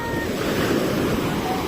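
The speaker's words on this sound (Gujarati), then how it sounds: "ઓહો ભાઈ, મોજું આવે છે" Sea waves wash onto a beach where children are bathing, a steady close roar of surf with heavy wind buffeting the microphone throughout.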